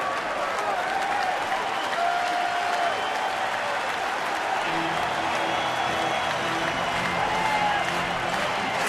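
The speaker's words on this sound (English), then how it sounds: "A sellout crowd tonight," At a sellout Major League Baseball game in Milwaukee, a stadium crowd of over 44,000 applauds steadily for several seconds. The clapping is a dense, continuous wash with a murmur of voices underneath.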